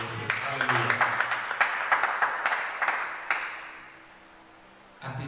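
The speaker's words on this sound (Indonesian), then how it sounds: "Boleh kita tepuk tangan untuk Tuhan Yesus" A church congregation at an Easter service claps for Jesus, rhythmic hand claps, moderately close, that fade into near silence before a voice resumes.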